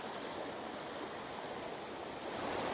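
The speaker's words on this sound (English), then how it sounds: "the power of the water coming down that fall is crazy" Steady, dense roar of heavy water pouring down a waterfall, loud and continuous with no pauses, heard up close in rainy outdoor landscape surroundings.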